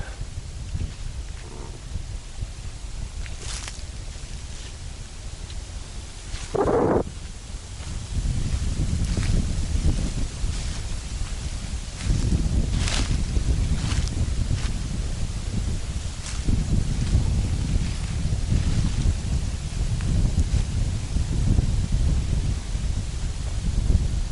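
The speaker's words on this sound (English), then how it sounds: "Again, lots of wind." Strong wind blows outdoors on a November day where people are out fishing, a steady, loud, rumbling buffet that keeps gusting with no voices.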